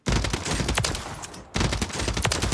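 Assault rifle fire in the shooter game Warzone 3: two loud, rapid automatic bursts separated by a brief pause, dense and close, with no voices.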